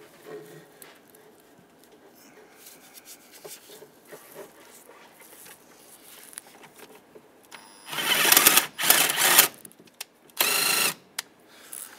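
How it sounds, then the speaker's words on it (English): A tool tightens a bolt on a 2007-2015 Mazda CX-9 engine while replacing the variable valve timing solenoid: faint clicks and handling noise, then several loud, close bursts of whirring ratchet or power-tool noise near the end. "we can tighten that bolt down"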